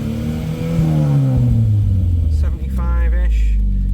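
A Volvo 940 turbo engine revs up to around 4000 RPM while still cold, a loud, rising mid-pitched drone that climbs and then holds high, with someone talking over it partway through.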